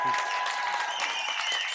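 A home crowd cheers and claps in a high school basketball gym after a corner three-pointer, a dense, loud wash of applause and shouting that holds steady for a couple of seconds.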